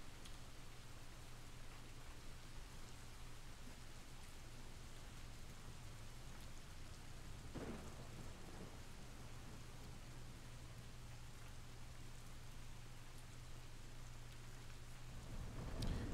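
Soft, steady rain ambience with a low distant thunder rumble, faint and continuous under a constant low hum, with no talking.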